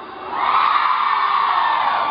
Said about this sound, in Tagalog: Contest to. Yung pinakamalakas na na sigaw.